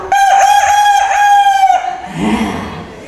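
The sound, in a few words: storyteller imitating a rooster crowing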